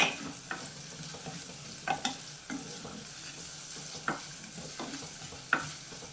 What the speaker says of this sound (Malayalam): തക്കാളി ഒരുപാട് വഴറ്റി ഇത് ചെയ്യണ്ട, ചെറുതായിട്ടൊന്ന് വഴറ്റിയെടുത്താൽ മതി തക്കാളി